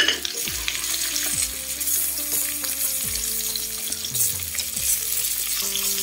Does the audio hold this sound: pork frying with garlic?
yes